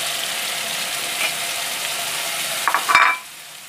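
Onions with garlic-ginger paste fry in a pan for a Malai Kofta, a steady soft sizzle throughout, ending in a brief louder scrape and stir before the sizzle drops away.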